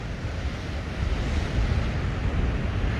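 Strong wind buffets a microphone on a sunrise walk along Lanikai Beach on Oahu, Hawaii: a steady, low, rumbling roar with surf blending underneath, growing slightly stronger partway through.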